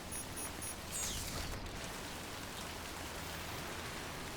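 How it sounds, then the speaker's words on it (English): Heavy pouring rain in Death Stranding, a dense, continuous wash of rainfall holding at an even level from start to finish with no voices. "In the pouring rain."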